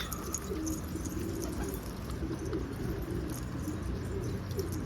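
Pigeons coo softly in a loft, low rolling calls repeating against a constant background hum, with occasional faint chirps; no one speaks.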